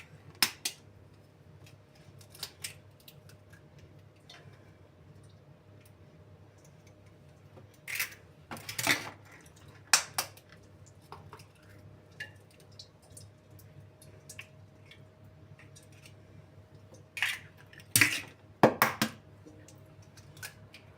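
Eggs being separated for a Rumba cake batter: sparse, quiet shell taps, soft squishes and drips, grouped in short bursts with long, still gaps and no talking.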